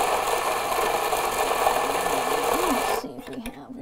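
An ECM C-Manuale 54 espresso grinder grinds coffee beans in a steady, loud buzzing whir that cuts off after about three seconds, leaving quieter room sound with a voice.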